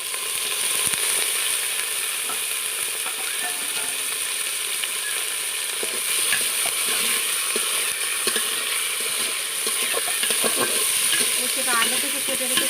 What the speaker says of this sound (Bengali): উচ্ছেটা এখন ভেজে নেব তেলের উপরে।